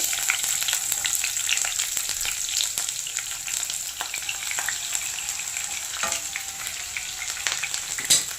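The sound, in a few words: onions frying with cumin and mustard seeds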